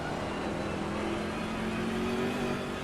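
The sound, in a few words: BMW race car engine, onboard, Assetto Corsa Competizione video game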